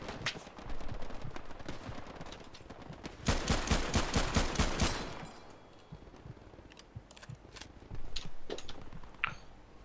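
Gunfire aimed at bunkers in a video game: rapid bursts of automatic shots, with a dense, loud volley in the middle and scattered shots before and after.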